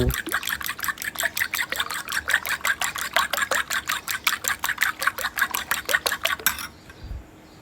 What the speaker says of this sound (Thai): ตีไข่ให้ขึ้นฟู